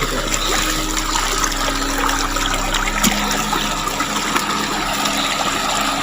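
Flowing water on a mountain, a loud close steady rush and trickle of running water filling the whole clip, with a low rumble underneath and no speech.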